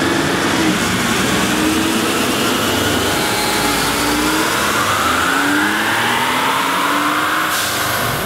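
A 2017 Ford F-150 pickup with the 3.5L EcoBoost engine makes a full-throttle pull in fifth gear in hot weather. It gives a loud, continuous roar that climbs steadily in pitch for about eight seconds, with no voices over it.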